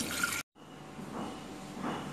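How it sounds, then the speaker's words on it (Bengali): Water pours into a cooking pot for laccha shemai dessert, a soft splashing flow that breaks off briefly, then resumes as a steady liquid gurgle, fairly close, without talking. "আমি পানি দিয়ে দিচ্ছি,"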